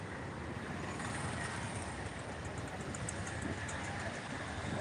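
Low, steady rumble of Mumbai road traffic near metro construction work, with engines droning throughout, a faint continuous hum and no talking.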